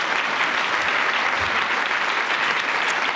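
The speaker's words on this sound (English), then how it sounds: "So now they deserve a very warm round of applause." Dense, steady applause from a conference audience during a policy session, a loud continuous wash of many hands clapping with no gaps across the whole stretch.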